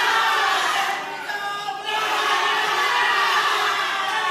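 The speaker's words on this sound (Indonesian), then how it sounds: "pendukung paslon nomor urut 2 memberikan tepuk tangan kepada paslon yang didukung" Supporters of candidate pair number 2 cheer and shout at a regency head and deputy candidate debate in Indragiri Hulu, a dense, loud crowd roar that holds steady, dips briefly in the middle, then swells again.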